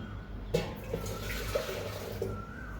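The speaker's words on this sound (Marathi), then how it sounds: "आता हे पाणी मी या कुकरमध्ये टाकते" Drained vegetable water pours steadily into a pressure cooker in a home kitchen for pav bhaji, a continuous close splashing flow with a few brief sloshes and no talk.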